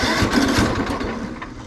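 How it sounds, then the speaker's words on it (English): A lawn mower's small engine on full choke cranks and sputters into a rough, loud running rhythm, close up and alone without talk, its uneven pulses carrying through the short stretch. "Now full choke, full up, just crank right off."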